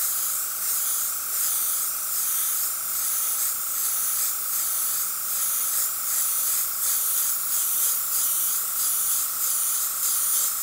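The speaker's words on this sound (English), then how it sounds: "With the opaque red back in the airbrush, we can go back in and begin to fade this red back into the white" An airbrush sprays Wicked Opaque Pyrrole Red paint in a continuous airy hiss, close and steady for the whole stretch with slight wavering in pressure.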